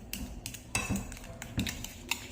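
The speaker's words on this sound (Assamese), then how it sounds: "এইখিনি ভালদৰে ফেটি লৈছোঁ" Four bananas mashed with a spoon in a bowl for cake, soft squishing punctuated by repeated clinks of metal against the bowl, close and quiet.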